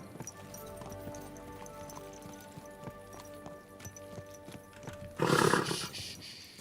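Video game sound from Kingdom Come: Deliverance 2: hooves clop in a steady rhythm, then a horse lets out a loud, close neigh near the end.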